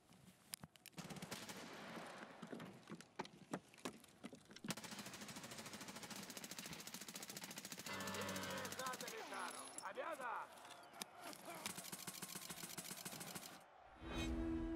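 Video game gunfire, a rapid stream of automatic shots under talk, followed by a burst of mixed noise and a louder rumble at the end.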